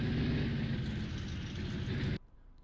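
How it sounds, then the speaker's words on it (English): An old truck engine reversing in the Farming Simulator video game gives a steady, loud mechanical rumble that cuts off abruptly near the end. "Back this old truck up."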